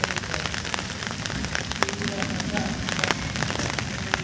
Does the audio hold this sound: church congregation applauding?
no